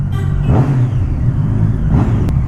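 A Triumph Street Triple 675 motorcycle engine revs loudly up close in two short bursts over a steady throbbing idle.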